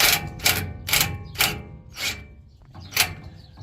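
A 15 mm socket on a breaker bar loosening a sway bar link nut gives about six sharp metallic ratcheting clicks in an uneven rhythm, close and fairly loud, with quiet gaps between them.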